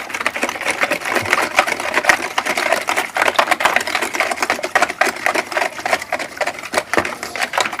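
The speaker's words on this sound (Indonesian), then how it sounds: "Ini dikocok sampai bercampur rata telurnya, gulanya dan lain-lain ya." Electric mixer beating eggs and sugar for sweet martabak batter, a loud, close, steady whirring buzz with rapid rattling pulses running the whole time.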